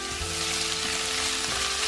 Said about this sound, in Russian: Итак, лук я обжарила до золотистого цвета, периодически перемешивая.